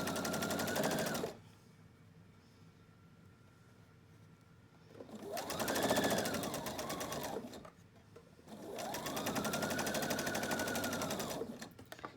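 A sewing machine stitches quilt pieces together for a seaside table runner in three steady runs, its rapid rhythmic whir loud and close, with quiet pauses between runs.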